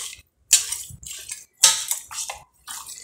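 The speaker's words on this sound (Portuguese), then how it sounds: "Pra não tá esse raspa-raspa na panela, porque eu não gosto." A spoon scrapes and clinks against a cooking pot while chicken with potatoes and carrots is stirred, in several close, short scraping bursts separated by brief pauses.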